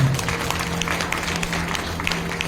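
Applause from the audience at a Bhagavat Katha religious gathering, a continuous rustle of many hands clapping over a low steady hum, moderately loud throughout with no clear voices.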